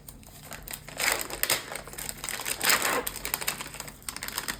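Packaging of an IV drip set is torn open along its perforated side and handled, with close crinkling and ripping of plastic and paper in irregular bursts, steady and fairly quiet, with no talking.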